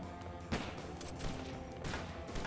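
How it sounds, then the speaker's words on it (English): Gunfire in a video game with a shotgun in use: a dense, continuous burst of shots, with heavier blasts near the half-second mark and again around 1.3 and 1.8 seconds, loud and close, no talk. "let's use a shotgun"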